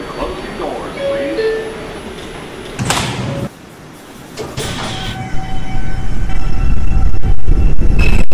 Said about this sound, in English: This is a Manhattan-bound 4 train.